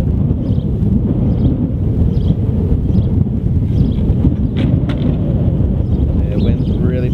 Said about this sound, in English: Wind's really picking up now at the moment.